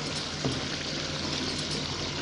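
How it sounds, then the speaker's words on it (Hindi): Water is poured from a glass into a pan of beef with green beans simmering on the stove, producing a steady, close bubbling and sizzling hiss that runs without pause and without talk. "हाफ गिलास में और डाल दूँगी।"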